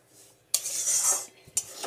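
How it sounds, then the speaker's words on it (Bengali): Semolina dry-roasting in a pan is stirred with a metal spoon, giving two sharp scrapes with a gritty rasp between them, close and fairly quiet. "সুজিটাকে পুরো প্রথমে শুকনো খোলায় আগে ভেজে নিচ্ছি"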